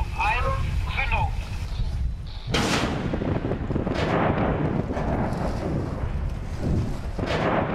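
Controlled underwater detonation of an old sea mine using an explosive charge, a sudden deep boom that follows a voice counting down, then a long rumbling roar of churning water and spray close by, with people talking at the start.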